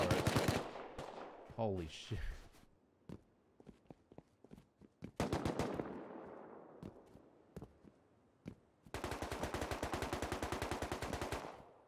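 Automatic turret gunfire in the game Rust, heavy bursts and scattered single shots that build into a long sustained rapid burst near the end, loud and close, with a brief exclamation from a player.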